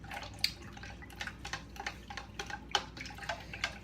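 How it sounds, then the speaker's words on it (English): Makeup brushes swished around in water inside a clear container, giving quiet close-up sloshing and dripping splashes in an irregular series. "I'm just gonna swish it around in the water."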